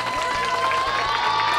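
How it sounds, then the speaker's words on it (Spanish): A studio audience applauds and cheers in a dense, steady wash of clapping and crowd noise, loud and continuous throughout. "quiero escuchar sus aplausos"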